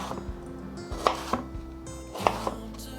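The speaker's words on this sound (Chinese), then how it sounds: "把馬鈴薯切成條狀" A knife chops potatoes into strips on a cutting board, giving several sharp, close knocks at an uneven pace over a low steady kitchen hum.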